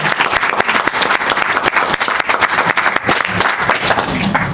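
Audience at a WorldSkills Romania competition in Slanic Moldova applauding the contestants, a loud, dense round of clapping with sharp individual claps standing out across the whole stretch.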